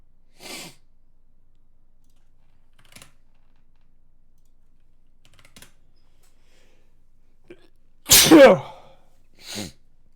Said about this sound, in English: Here's your stream sneeze.